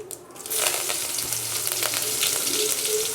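Close, steady sizzle of mustard seeds and green chillies frying in hot oil, with crackles and pops rising after a quiet start.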